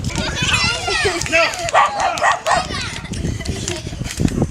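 A dog barks a few times amid excited children's voices and chatter, the barks short and close, mixed in with the talking.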